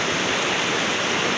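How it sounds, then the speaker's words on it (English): River water rushes around an island in a loud, continuous, broadband roar with no voices. "Water passing through left and right."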